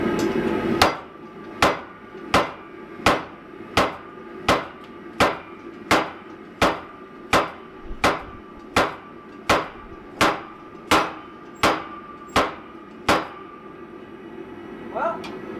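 Forging dies are struck in a steady series of about eighteen loud, sharp metallic hammer blows, evenly spaced roughly every seven-tenths of a second, ringing close up over faint background noise.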